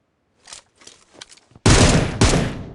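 A few faint scattered noises, then a sudden loud burst of rapid video game gunfire that cuts out and fires again, sharp and close.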